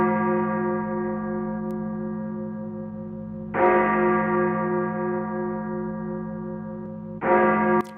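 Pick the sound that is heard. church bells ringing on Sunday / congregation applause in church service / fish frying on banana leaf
church bells ringing on Sunday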